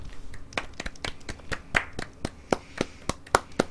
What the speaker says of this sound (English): It's like a golf clap.